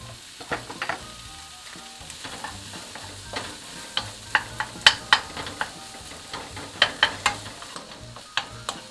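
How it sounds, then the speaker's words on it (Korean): Carrot, zucchini and ham stir-fried in a pan for a ham and vegetable side dish: a steady sizzle under repeated sharp scrapes and clacks of a utensil against the pan, growing more frequent midway through. "당근이 어느 정도 익으면 애호박과 햄을 넣고 볶아줍니다."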